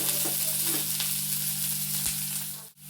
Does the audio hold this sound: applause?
no